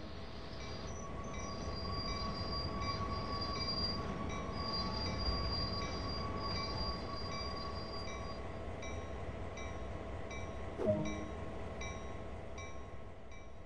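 A GP38-2 diesel locomotive in a train simulator brakes to a halt, with steady rumbling rolling noise, high metallic wheel squeal and whining tones fading, and a brief clunk near the end.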